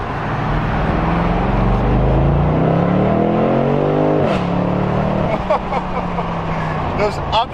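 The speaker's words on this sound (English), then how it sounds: "let's feel what over 500 horsepower in a giant BMW feels like." A BMW 8 Series with over 500 horsepower accelerates hard from inside the cabin. The engine note climbs steadily and then drops sharply with quick upshifts, loud and continuous throughout.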